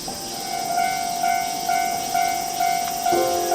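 A train arrives in the VRChat video game, its repeated horn-like tones pulsing steadily over a continuous rail rumble, loud and alone.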